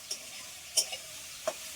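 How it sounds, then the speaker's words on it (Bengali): Onions fry in a pan with a faint, quiet sizzle while a spatula stirs them, making a few sharp scraping ticks spaced irregularly. "এখন পেঁয়াজ ভাজা হচ্ছে"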